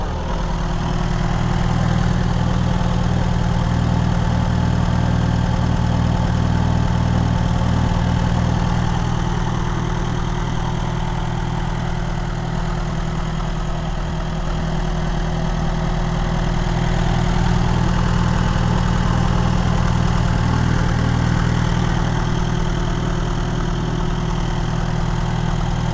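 Vintage Kohler 4 kW, 110-volt lightplant generator running steadily at a constant idle, a loud close-up drone with a deep low hum and steady mechanical rumble throughout, no voices.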